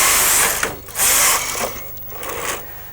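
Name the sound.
Brother KH950i knitting machine carriage knitting rows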